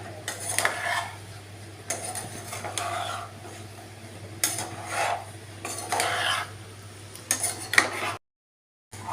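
Crushed ginger and garlic being stirred in a pot for a roasted-coconut chicken curry, with repeated scraping and clinking of a spoon against the metal pan in short bursts over a steady low hum, then a brief silence at the end.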